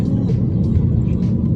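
A car drives along a road on the way to Munnar, giving a steady low rumble of engine and tyre noise close by, with a few faint higher sounds passing over it.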